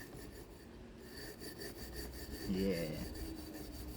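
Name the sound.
scrubbing a rusty tool to remove rust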